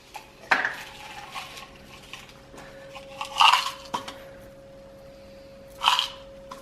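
Silver balls and gingerbread decorations sprinkled onto Christmas bakes, a few brief tinkling clinks and small rattles scattered through an otherwise quiet kitchen with a steady faint hum.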